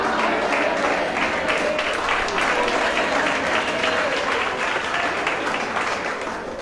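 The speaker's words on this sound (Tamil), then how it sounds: "கைகளை தட்டிக்கிட்டே சொல்லுங்க." A church congregation claps hands steadily and loudly for several seconds at a Tamil gospel service, a dense sustained wash of applause.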